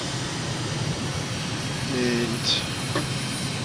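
An airplane in Microsoft Flight Simulator flies level at about 250 knots over Eswatini, its engine a steady, even drone throughout, with a faint tonal whine rising briefly near the end.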